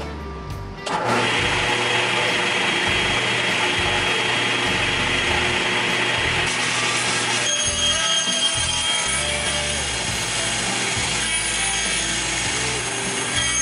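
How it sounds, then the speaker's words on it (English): A power saw cuts a wooden cabinet top to length in a home shop, starting abruptly after a brief quiet lead-in and running as one loud, steady, continuous whine for most of the span, with a slight change in pitch partway through. "Alright, I'm ready to cut the cabinet top to length."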